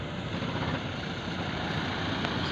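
A generator aboard the ship BRP 396 runs with a steady, dense, broadband engine roar, loud and continuous throughout with no variation.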